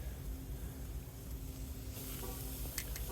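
A select-grade ribeye steak sears on a hot grill with a steady, close hiss and sizzle, joined by a few faint pops and crackles toward the end.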